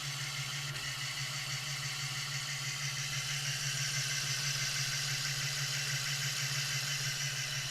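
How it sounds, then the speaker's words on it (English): Cog wheels spinning an alternator, a continuous mechanical whirr with a steady low hum and a bright high-pitched whine, constant and unbroken throughout with no voices. "You see it's going now, it's spinning the alternator."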